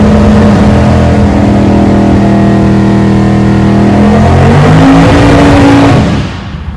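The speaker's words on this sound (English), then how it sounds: "Gotta get a good burnout in and a full pull." A 1968 Dodge Dart drag car roars loudly at close range during a burnout, its engine holding a steady high rev before climbing in pitch near the end and then cutting off abruptly.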